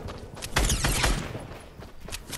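Rapid gunfire in a Fortnite Battle Royale scrim match, a loud dense burst of overlapping shots for about a second followed by scattered fainter pops, with no talking.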